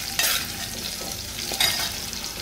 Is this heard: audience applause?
no